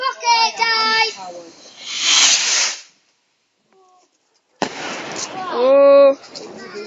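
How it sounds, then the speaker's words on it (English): A firework rocket on bonfire night, with a rushing hiss of launch and fizzing crackle heard between the excited voices of people talking and calling out nearby. "Time for a rocket, guys."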